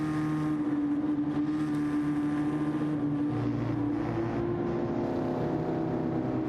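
A race car is driven on the Trial Mountain circuit in Gran Turismo 7, a steady, continuous engine drone with sustained tonal hum that holds at a constant level throughout.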